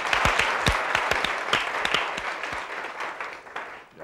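Audience applause on a Turkish prank show, close, lively clapping with distinct individual claps over a dense wash that gradually thins out toward the end.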